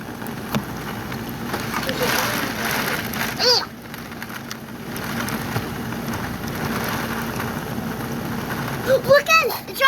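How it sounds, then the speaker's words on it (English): Heavy rainstorm with a constant wash of rain hitting surfaces outdoors, a steady loud hiss, with people talking and a few brief squeaky sounds. "And it's raining out and going."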